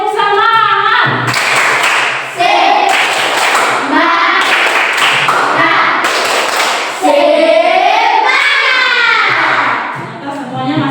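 A rhythmic 'tepuk semangat' hand-clapping ice breaker led by a teacher in a classroom, with bursts of patterned clapping alternating with chanted or sung voices in a repeating, energetic cadence.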